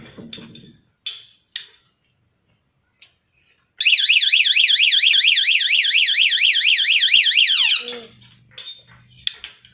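A Protech Smart Key digital motorcycle alarm. A few short chirps and beeps lead into a loud, rapidly warbling electronic siren lasting about four seconds, then it cuts off and more short chirps follow.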